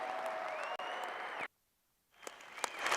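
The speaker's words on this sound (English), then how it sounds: "give them the biggest round of applause" Arena crowd clapping at a livestock show steer championship, mixed with sustained tonal sounds, cut off by a brief silence, then resuming with scattered claps and cheers.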